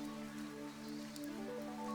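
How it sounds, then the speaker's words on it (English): Heavy rain falls in the video game Fantasian Neo Dimension, a steady hissing downpour with soft patters and drips over a low sustained musical drone, continuous and without voices. "Vam and Taros followed Yim as she walked through the downpour"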